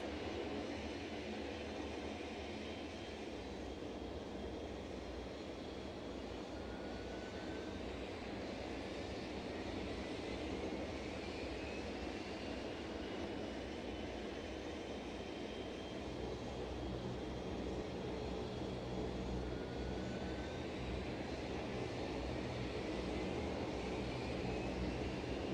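Dash 8 turboprop engines in a flight simulator hum in a steady, continuous drone with faint whining tones drifting slowly, quiet and unbroken for the whole stretch.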